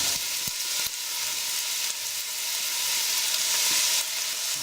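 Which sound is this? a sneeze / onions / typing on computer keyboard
onions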